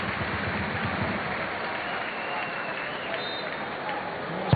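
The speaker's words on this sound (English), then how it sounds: "And a big cheer for Ross." A football crowd at an Aberdeen versus Hearts match cheers and applauds as local youngster Frank Ross comes on as a substitute. The applause is sustained and somewhat distant, and a commentator talks over it.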